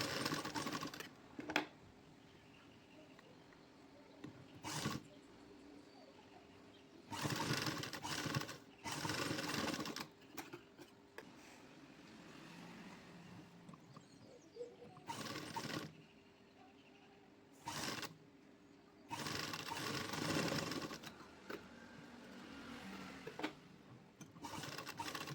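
A sewing machine stitches the new neckline of a dress redesigned from an old long frock, running slowly in repeated short bursts of whirring separated by quiet pauses, fairly faint and without talk.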